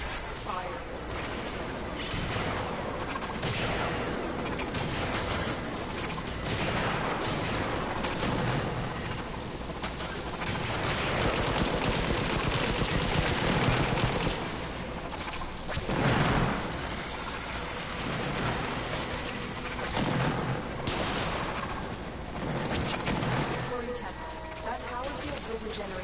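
Dense, continuous battle din from the Warframe video game, with sustained gunfire and rumbling blasts washing together at steady high loudness, while a voice speaks over it.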